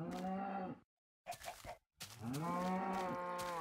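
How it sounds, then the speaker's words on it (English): Cows in the Minecraft video game let out a series of loud, drawn-out moos, with brief silent gaps between calls and no talking. "Cows!"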